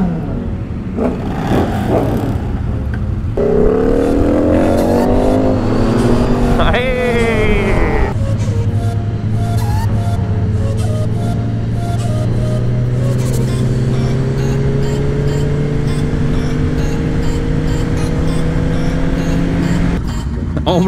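A loud Ducati Panigale V4 motorcycle revs hard, its engine climbing through rising pitch sweeps and then holding a steady roar. The bike is close, with a sustained drone under the rest.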